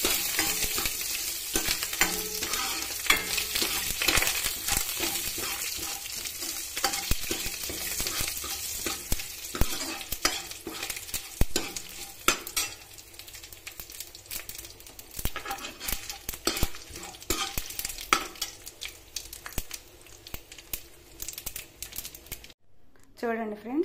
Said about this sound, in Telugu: వేరుశనగకాయల పచ్చడి తాలింపు చేసేసానండి